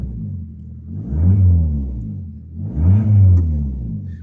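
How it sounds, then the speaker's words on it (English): Modified Fiat Punto Grande engine heard from inside the car, idling low then revved twice in two swelling, loud rises and falls of deep engine drone. "we'll just do a few cheeky little revs just so you can see what it's like on the inside"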